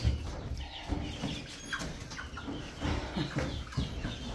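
Chickens clucking as they are loaded into boxes on a farm, a quiet scattering of clucks and soft calls against a rustling background.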